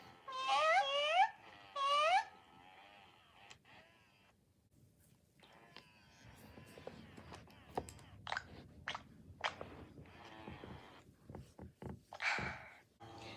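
Two short, high electronic mews from a Little Live Pets robotic plush kitten toy up front, then quieter mechanical clicks and soft lapping, slurp-like sounds with scattered squeaks.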